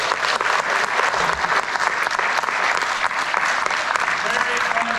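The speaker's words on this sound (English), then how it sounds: "let's go ahead and give a round of applause" Sustained, dense applause from a conference audience at the Ontario Craft Brewers Conference, loud and even throughout with a few voices mixed in.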